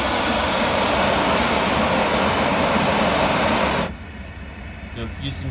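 A wok burner roars loudly and steadily, its flame hissing at full blast for several seconds before cutting down abruptly to a much quieter low flame.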